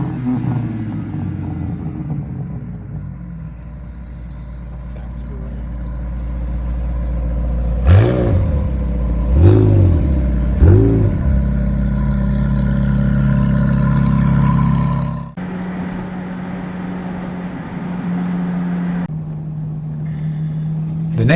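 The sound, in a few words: Ferrari engines revving in a rev competition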